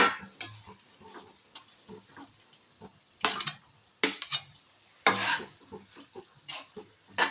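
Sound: stirring cooked rice into eggplant vangi bath in pan

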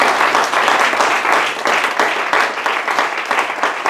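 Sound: congregation applauding in church

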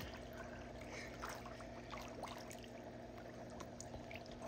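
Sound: air bubbling out of a submerged Gonex bag's seam

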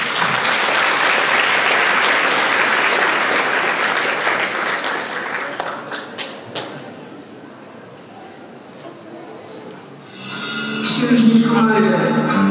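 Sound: audience applause at cosplay contest

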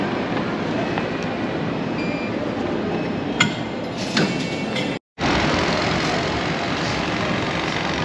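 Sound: former Japanese commuter train

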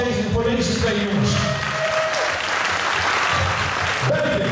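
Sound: crowd applause for two kickboxing fighters

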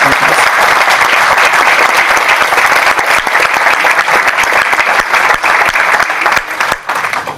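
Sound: audience applause for the authorities

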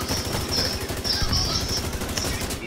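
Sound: gunfire in video game The Division 2

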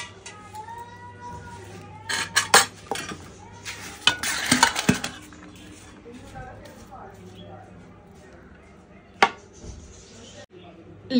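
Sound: food being transferred into another pot

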